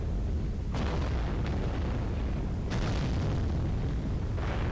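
Mech weapons firing in MechWarrior Online from a Locust, a few sharp booming blasts spaced a second or two apart over a constant heavy rumble of engine and battle noise.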